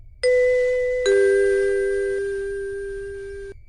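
Shop door bell ringing as a customer enters near closing time: two clear electronic ding-dong tones, the second sounding about a second after the first, both ringing out and decaying alone.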